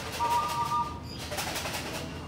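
Pigeons cooing in a loft, soft repeated coos over a steady background hum, a short stretch of birdsong-like calls near the start.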